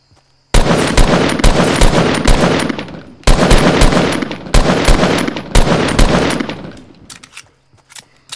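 Video-game gunfire cracks out in loud, rapid bursts of automatic fire, three long volleys separated by brief gaps, then fades to quiet.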